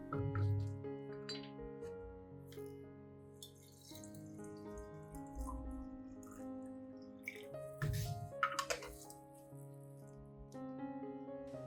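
Clean water trickles and splashes into an orchid nutrient mixture in a container, with scattered clinks of glass and drips over a few seconds, close and fairly quiet.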